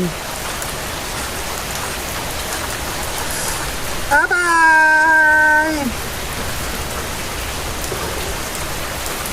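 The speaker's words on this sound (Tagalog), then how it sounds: "Ano masasabi mo sa biglang buhos ng ulan?" Heavy monsoon rain pours steadily and loudly while a voice calls out once, a drawn-out shout partway through.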